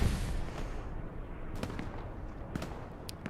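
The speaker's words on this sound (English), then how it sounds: "Bombing run called in over here to the left." Bombing-run explosions in the Hell Let Loose video game, set on the Juno Beach map, heard as a heavy rumbling blast at the start followed by several sharp, distant bangs and cracks over continuous battlefield noise.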